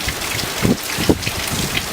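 Sideways-driven rain during Hurricane Irma pelts a flooded front yard, a dense steady patter with a few heavier drips and splashes standing out, close and continuous under gusty storm wind.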